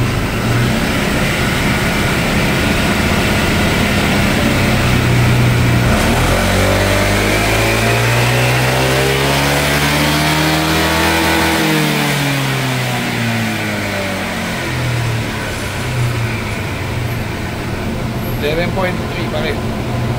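Honda Giorno scooter engine revving on a dyno, climbing steadily in pitch to a peak, then dropping back down. It is loud and close, with brief bursts of talk near the end.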